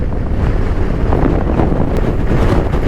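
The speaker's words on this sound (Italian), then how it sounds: "C'è un bel po' di vento, quindi chiudiamo la visiera" Loud, steady wind buffets the microphone on a motorcycle ride toward Vittorio Veneto in the Italian hills, with a continuous rushing roar and no pauses.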